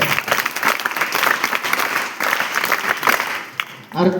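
Hearty audience applause at an interview event, loud and sustained with slight swells, and a voice comes in as the clapping fades at the end.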